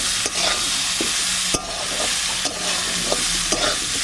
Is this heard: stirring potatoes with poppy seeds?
yes